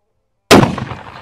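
A single loud rifle shot from a Mossberg Patriot in .300 Win Mag cracks sharply out of silence and then decays with a rolling outdoor echo.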